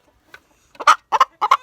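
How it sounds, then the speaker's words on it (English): An angry backyard chicken lets out a few sharp, agitated clucks in quick bursts, close and clear against an otherwise quiet background. "Very cross chicken."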